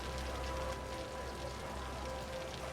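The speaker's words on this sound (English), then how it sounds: "It's raining." Steady rain in the city-building game Cities: Skylines, a soft, even hiss of drops with a faint tonal hum underneath, continuous and fairly quiet throughout.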